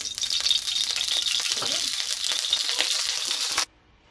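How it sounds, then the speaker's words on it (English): Olive oil sizzles in a heated pan while honey chilli potato is being cooked, a steady, bright, crackling hiss lasting several seconds before cutting off abruptly into near silence. "I've just heated a pan and I'm going to put a little bit of olive oil"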